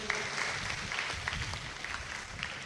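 Children at a parish Mass clap for an answer, a brief burst of dense, mid-distance applause from a small group that continues evenly throughout without trailing off.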